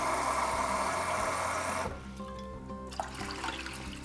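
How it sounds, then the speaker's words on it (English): Water gushes loudly into a pot of washed grains and lentils for about two seconds, then stops, leaving faint kitchen background hum and small clinks. "I'm actually gonna add about 4 cups of liquid."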